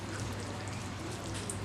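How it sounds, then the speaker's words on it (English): Clean water poured over freshly made homemade paneer in a bowl to rinse out lime sourness while preparing rasmalai, a steady soft splashing trickle heard close and alone for under two seconds. "Just let us put some clean water"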